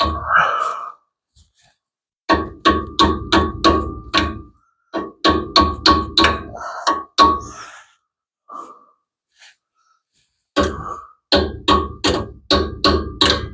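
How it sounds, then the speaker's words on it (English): Repeated sharp hammer blows in quick bursts of five to eight strikes, loud and close, separated by short pauses with some breathing, while fitting brakes to a 1975 Plymouth Duster with a Hemi engine. "I forgot a hammer, and then I'll use this hammer"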